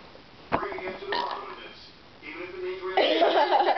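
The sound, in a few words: burping contest after chugging Diet Coke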